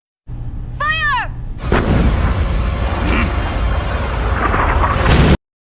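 Heavy artillery fire in the video game Metal Gear Solid 4, a sustained loud rumbling barrage of booms and blasts lasting several seconds after a brief shouted voice.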